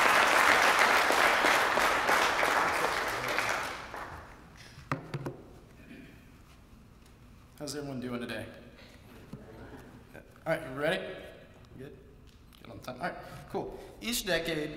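Audience applause at a speech contest welcoming a speaker, a dense clatter of clapping for about four seconds that fades out, then scattered sounds and a voice talking.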